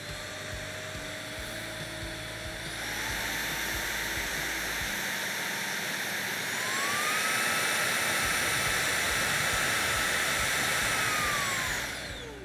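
An R70 handheld vacuum runs with a steady loud whine, stepping up in pitch and power twice as it moves through its settings, then winding down at the end, with no talking.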